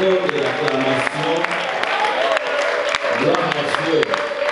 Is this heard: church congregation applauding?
yes